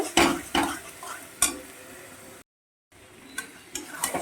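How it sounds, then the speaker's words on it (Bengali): Chicken pieces stirred and fried in a wok, with sharp spatula scrapes and clacks against the metal over a soft sizzle, close, with a brief silent gap midway. "চিকেন দিয়ে ভালো করে নাড়িয়ে চাড়িয়ে একটু কষিয়ে আলুগুলো দিয়ে দিচ্ছি"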